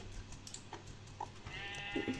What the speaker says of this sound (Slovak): Super, paráda, máme ovcu